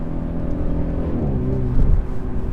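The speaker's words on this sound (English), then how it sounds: "And sometimes you even get nice burbles like that." A 2017 Mercedes E300 heard from inside while driving, its engine giving a steady low drone with a slightly louder exhaust burble rising briefly near the end, no talking.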